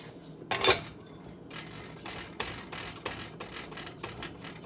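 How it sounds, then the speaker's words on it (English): Cheese being grated for a keto cauliflower mac and cheese, a close series of rhythmic scraping strokes with a sharp clatter near the start, with no talking over it. "And then we can just kind of grate up some more if we need to."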